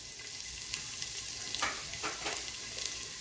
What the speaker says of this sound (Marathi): तेलामध्ये मी एक पूर्ण मोठा कांदा टाकते आहे.